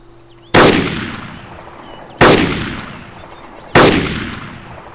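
Gunfire in the video game DayZ, three loud, sharp single shots spaced about one and a half seconds apart, each cracking sharply and then decaying in a long echoing tail.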